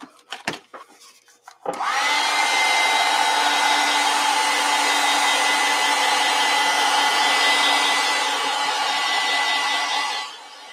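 A hair dryer blowing on wet acrylic paint for a spring landscape canvas: a few handling knocks, then the motor switches on into a loud steady whine that holds for about eight seconds before easing off.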